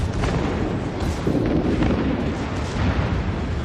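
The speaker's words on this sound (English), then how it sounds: "And once again, my secondaries are lighting up." A warship's secondary guns fire in a naval warfare game as a continuous, loud, rumbling barrage of overlapping booms with no clear gaps between shots.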